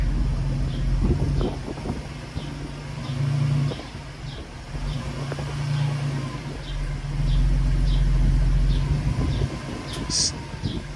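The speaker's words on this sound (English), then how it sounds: "She's slowly rolling back." A Ford Transit campervan idling and slowly rolling back while being leveled, a low steady engine rumble with slight rises and dips in pitch, close and continuous, no voices.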